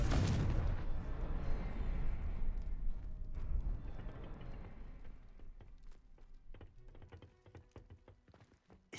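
A Confringo spell blast in the video game Hogwarts Legacy erupts as a loud, deep boom that decays over several seconds, followed by scattered small clattering taps and debris-like knocks fading toward quiet.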